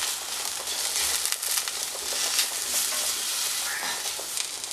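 Curry leaves and spice masala sizzle and crackle in a pan for a Kerala-style sardine roast, a steady close frying hiss with scattered pops and occasional stirring, no voices.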